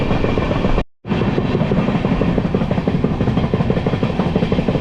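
Passenger train cruising at over 100 km/h on a morning journey near Tirupati, heard from inside as a steady loud rumble with rhythmic clatter; the sound briefly cuts out for an instant, then resumes.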